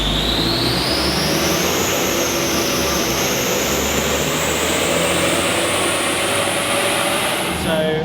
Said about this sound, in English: We did about 3 runs on the dyno.